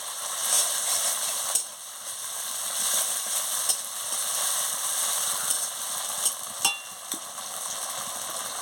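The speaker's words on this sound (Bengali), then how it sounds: "এবারে আদা বাটা রসুন বাটা দিয়ে দিচ্ছি। ভালো করে ভেজে নিচ্ছি।" Ginger paste and garlic paste frying in oil, a steady close sizzle with a few sharp clicks of a spatula scraping the pan, no voices over it.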